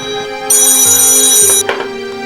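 A telephone rings loudly indoors with a bright electronic repeating ringtone, its tones pulsing steadily before cutting off abruptly with a short clatter near the end.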